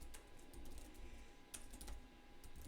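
Quick typing on a computer keyboard, a run of light, irregular key clicks with a few sharper taps, close up against a quiet room background.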